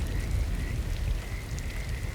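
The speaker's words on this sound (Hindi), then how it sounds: "कई दिनों से लगातार बारिश हो रही थी।" Steady rain falling and pattering on surfaces, a dense continuous hiss with scattered drips, moderately loud, with no voices.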